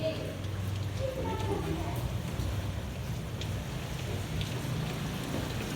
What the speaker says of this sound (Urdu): ویورز اتنی تیز بارش ہے کہ ادھر سے پانی اندر آ گیا جی